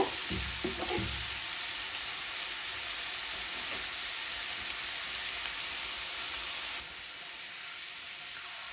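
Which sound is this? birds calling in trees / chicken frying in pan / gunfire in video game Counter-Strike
chicken frying in pan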